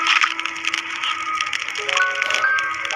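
Burning wood crackles and snaps in a fire built in a field on a cold, foggy winter night, a steady close crackle over a faint sustained tonal background.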